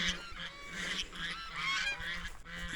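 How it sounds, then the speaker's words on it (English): Geese honking nearby in a field, a loud flock calling in repeated overlapping bursts with no talk. "The geese are going to drown you out in a minute."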